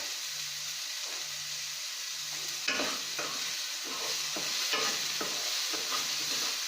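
Vegetables for bonda fry in hot oil with a steady, close sizzle, interrupted by several sharp clattering stirs and spoon scrapes.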